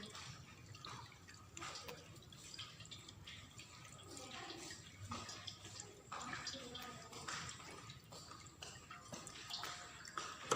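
Hands being rinsed under running tap water at a sink: a soft, steady trickle and splash with small drips, fairly quiet and continuous throughout.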